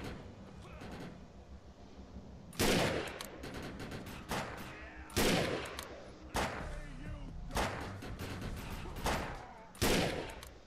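Bolt-action rifle shots ring out in the sci-fi shooter game Defiance, five or six sharp loud cracks spaced a couple of seconds apart over a background of continuous game noise.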